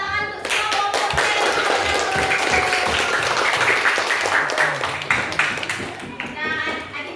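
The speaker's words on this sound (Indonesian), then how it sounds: "Tepuk tangan untuk semua kelompoknya." A classroom of children claps together for all the student groups, a dense, steady burst of applause lasting several seconds, with voices and chatter mixed in.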